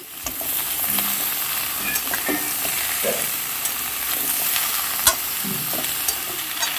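Onions and fish head fry together in a pan with winter vegetables, giving a continuous loud sizzle broken by occasional spatula scrapes and clicks.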